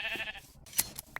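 Sheep in Minecraft bleating in a few short, faint calls, a longer one first and then brief bleats spaced out, with no talk over them.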